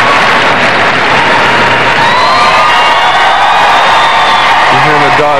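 A dense crowd at a Westminster Kennel Club dog show in 1998 cheers and whoops loudly and continuously, with scattered shouts and applause rising around a German Shepherd in the ring; a voice speaks near the end.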